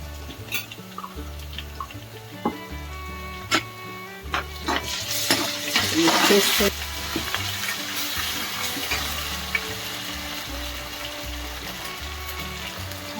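Onion frying in oil with ginger paste for a chicken or mutton curry makes a constant sizzle, with utensil taps and scrapes and a louder surge of crackling in the middle. A low musical hum plays underneath.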